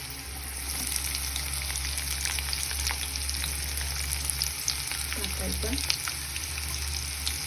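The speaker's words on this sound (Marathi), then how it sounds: "हे बघा, शेंगदाणे छान फुटायला लागले, तळल्या गेले ते शेंगदाणे छान" Peanuts and chopped onion fry in oil in a pan for a palak bhaji, giving a steady, close sizzle and crackle throughout. Someone speaks quietly over the frying for a moment near the end.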